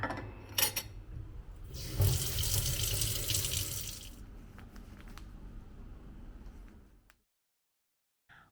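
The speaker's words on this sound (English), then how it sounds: "Walk-in glass shower. The water pressure is decent." Water runs steadily from a walk-in glass shower, rising to a heavier spray for a couple of seconds, then cuts off into silence.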